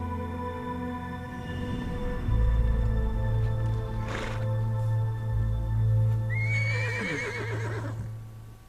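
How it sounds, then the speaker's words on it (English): A horse in the video game Metal Gear Solid 3: Snake Eater neighs loudly, a shrill rising whinny that trails off, over a steady low hum and tonal background. "Oh, her horse."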